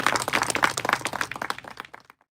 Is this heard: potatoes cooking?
no